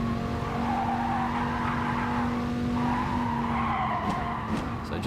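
Dodge Viper Gr4 race car in GT Sport on the Sardegna circuit running at wide open throttle, a steady loud engine drone with tire squeal and skidding throughout, close and continuous.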